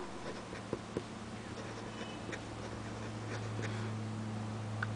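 A Baoer 388 fountain pen nib scratches across paper in soft, faint strokes with a few light taps, set against a low steady hum.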